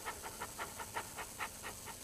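A cocker spaniel pants quickly and faintly, with about ten short, even, breathy huffs in two seconds.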